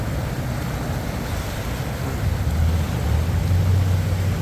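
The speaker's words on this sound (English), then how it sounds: "You can see there's a lot of water coming down." High water pours and crashes through a dam gate on the Fox River in a steady, dense roar that swells a little louder partway through, with some wind buffeting the microphone.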